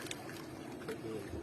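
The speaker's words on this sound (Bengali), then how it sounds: "এই তো নৌকা টানছে অনিমেষ আর লাড়াই" A wooden rowing boat is hauled by hand through river water, giving a close, steady wash and churn of water with faint splashes and no talk over it.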